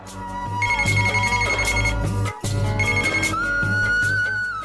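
A telephone ringtone plays loudly and continuously in a scene from a Marathi TV serial, a bright repeating melodic tone with no talking over it.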